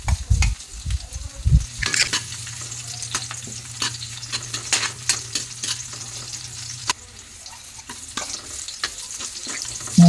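Garlic sizzles in hot cooking oil in a pan as aromatics are sautéed for pork-lung bopis, with a steady close frying hiss and intermittent stirring scrapes and clinks throughout.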